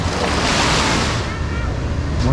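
Gusty wind blows steadily across the microphone beside an outdoor water park wave pool, a loud broadband rush with water-like surf noise running through the whole stretch and no one speaking.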